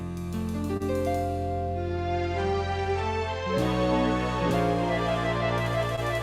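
An electronic home organ plays a sustained chordal intro with a rhythmic backing pattern, full and steady, shifting chords partway through.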